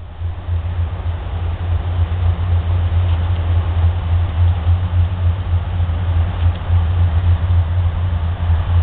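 Union Pacific freight locomotives heading outbound past Memorial Park early on a Sunday morning give a steady, heavy low roar that holds without a break throughout.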